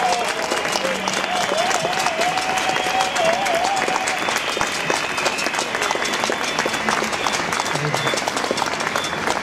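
Crowd applause at an outdoor political protest rally in Hannover, a dense, steady wash of clapping and cheering that holds at a loud level throughout, with a voice from the stage carrying faintly over it.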